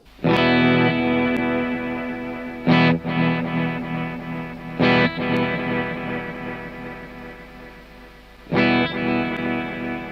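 Heavily distorted, crushed lo-fi tones with gritty delay repeats from a Kemper Profiler delay, loud and sustained, with several sharp re-attacks spread across the passage.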